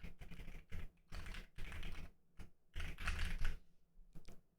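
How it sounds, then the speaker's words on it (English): Fast bursts of clacky typing on a loud computer keyboard, close and crisp, with keystrokes coming in rapid clusters separated by short pauses, heard alone without talk. "Nice loud keyboard to make sure everybody can hear me do it."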